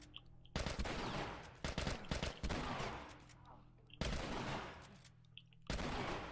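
Repeated loud bursts of gunfire in The Last of Us inside a hospital, with clustered shots and rapid volleys separated by brief quiet gaps.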